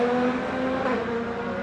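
IndyCar race cars on track during warm-up at a Honda Indy event, a distant sustained engine drone with a steady tonal whine.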